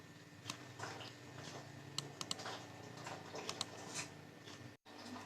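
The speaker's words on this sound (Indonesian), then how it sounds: "ketikkan perintah ini" Fingers tap out a command on a computer keyboard, with quiet, uneven clicks and a few sharper keystrokes close by, over a soft room hiss and with no voices.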